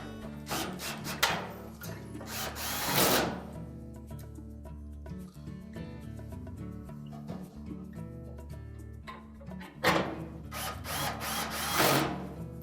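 Power drill driving screws into a Whirlpool dryer's motor mount cross piece, with two loud bursts of whirring at the start and end separated by quieter mechanical rattling, close by and without talk.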